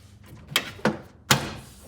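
A stock-style door panel on a 1966 Pontiac GTO snaps into place: three sharp, close plastic clicks in under two seconds in a quiet garage.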